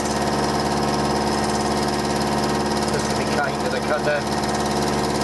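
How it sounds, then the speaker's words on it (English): A milling machine runs steadily as it takes a 0.1 cut with coolant brushed on, the loud continuous machine drone with a rattle from the top of the mill, while someone talks over it. "God, it's rattling on the top of the mill here."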